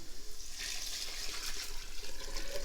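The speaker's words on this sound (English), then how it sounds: "Now we're going to add in all of that broth that we just made." Homemade broth poured into a pot of browned onions and carrots for chicken noodle soup makes a steady splashing pour that lasts throughout, close and fairly faint.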